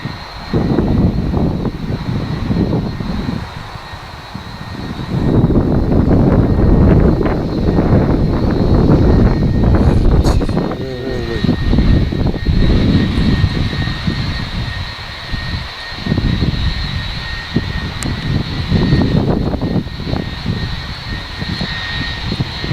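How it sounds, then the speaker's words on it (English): A SunExpress airliner landing on runway 23 at Manchester, a loud, sustained jet engine roar with wind buffeting the microphone, swelling and holding as the plane comes in, with no talk. "you probably just saw the Sun Express just landing on 2-3"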